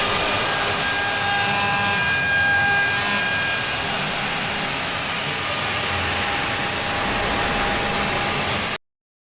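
A hand router cuts holes in wood with a loud, sustained high-pitched whine, steady for several seconds before stopping abruptly.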